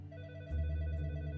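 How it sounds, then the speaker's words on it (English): A telephone on a police detective's desk rings with a steady electronic tone over a low hum, continuous and fairly close, with no voices. "the phone on Detective Higginbotham's desk rang"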